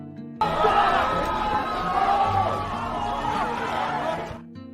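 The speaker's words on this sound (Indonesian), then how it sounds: "Malam itu, Maria menghabiskan dengan teriakan para pemberontak." Crowd of rebels shouting in a film scene, a dense, continuous mass of raised voices and yells that starts abruptly and holds at a steady, fairly loud level before cutting off.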